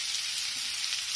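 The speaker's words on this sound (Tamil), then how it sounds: "கருவேப்பிலை பொரிஞ்சிருச்சு, அடுத்ததாக வெங்காயத்தை போட்டுடலாம். வெங்காயம் போட்டாச்சு" Onions and curry leaves fry in a pan for a prawn thokku, a dense, even hiss of sizzling oil, close and continuous for a brief moment without any voices.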